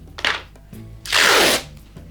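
Two close rasping swipes of painter's tape rubbed firmly onto the back of a canvas: a short brush, then a longer, louder stroke, with no talking.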